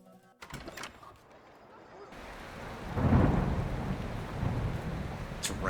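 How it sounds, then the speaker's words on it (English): Rain pours down in a Mount & Blade 2: Bannerlord street scene outside a tavern, a steady hiss that swells loudly partway through with a low rumble like thunder, continuing to the end. "It's raining."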